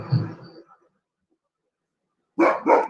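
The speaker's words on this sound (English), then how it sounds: "You're probably hearing my dog bark." A dog barks in the background of a remote call, with one short bark burst and then two quick barks after a pause. A person speaks faintly beforehand.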